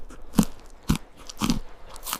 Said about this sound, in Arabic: دابا غادي نذوقها باش نشوفوا الطعم